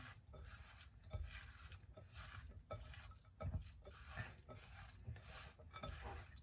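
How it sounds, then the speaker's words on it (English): Hands work through a bowl of chopped apples and nuts for Passover charoset, making soft squelching, rustling mixing sounds with repeated dull knocks against the bowl, close and fairly quiet. "We're gonna stir it all around with our hands."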